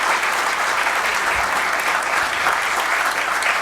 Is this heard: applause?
yes